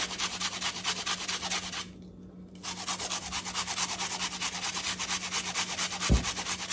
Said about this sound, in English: So I'm just going to grate it in.